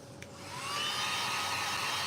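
Hair dryer blowing on painted terracotta-colored craft work with hot glue, switching on and rising to a loud, steady whooshing drone with a faint whine, no talking.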